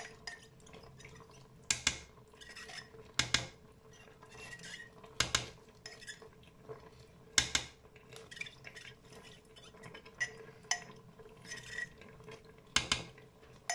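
Macaroni with homemade tomato sauce stirred in a Cookeo multicooker pot, with a spoon scraping and clinking against the pot in irregular bursts and some sharp knocks, close and fairly quiet, without talk.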